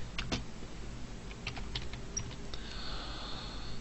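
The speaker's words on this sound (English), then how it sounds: "In this case, we just type something in." Keys clatter on a computer keyboard while a customer record is filled in for an invoice, a few scattered close clicks and taps against a low steady room hum, with no voices.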